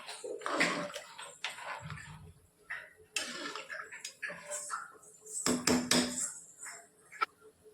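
Biryani ingredients stirred in a cooking pot: scraping and clattering of a utensil against metal with a few clinks, irregular and close, over a background hum.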